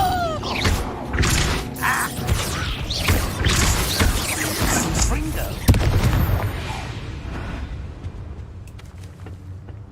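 A Confringo blasting spell fires in the video game Hogwarts Legacy: a busy stretch of booming, thudding blasts and crashes with one sharp hit midway, then the noise fades away, with a voice speaking under it at times.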